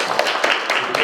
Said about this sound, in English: I want to start off by giving him a round of applause.